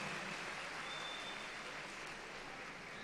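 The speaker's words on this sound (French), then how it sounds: "Merci pour vos applaudissements." Steady audience applause fills a savate fight night hall hosting world championship finals, a dense continuous wash of clapping throughout with no talk over it.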